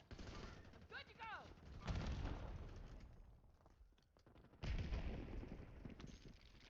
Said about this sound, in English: I'm getting shot from the building.